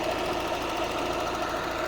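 A 1997 Toyota Soluna 1.5 GLI engine with automatic gearbox and gas fuel system idling steadily up close, a continuous even rumble with a faint ticking pulse and no voices.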